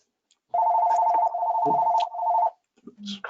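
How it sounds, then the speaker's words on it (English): An incoming call ringing on a phone during an online planning commission meeting, a steady electronic ring lasting about two seconds with a short pause, followed by faint voices. "Answer the phone."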